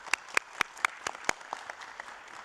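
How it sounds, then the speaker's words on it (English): Faint, fairly regular claps ring out, several sharp hand claps in a row, sounding like a small patch of applause heard from a distance at a county board of supervisors meeting. "Let's give him a round of applause."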